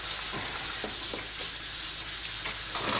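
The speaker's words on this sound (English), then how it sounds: "We're just sanding like a normal day." A backhoe part is hand sanded with 400 grit sandpaper in steady back-and-forth strokes, a close, loud hissing rasp with a regular rhythm and no talking.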